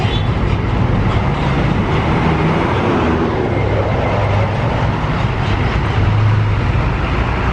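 The Argo Wilis passenger train speeds past a level crossing at about 120 km/h. It makes a loud, continuous close-up roar with rumbling wheels and clattering carriages throughout.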